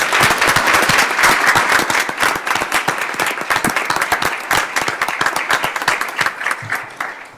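An audience at a school board meeting gives the district bookkeepers a round of enthusiastic applause. Full, continuous clapping from many hands lasts about seven seconds before tapering slightly at the end.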